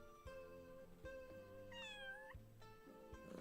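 A cat in the Wandering Sword video game meows several times when petted, short tonal calls with one rising, wavering cry in the middle, clear and close.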